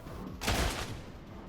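A Warhammer Imperial Guard gun fires a single dense burst of volley fire, a loud broadband blast that swells and fades within about half a second over a steady game background.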